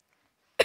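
A single short, sharp cough bursts out after near silence, close and fairly loud.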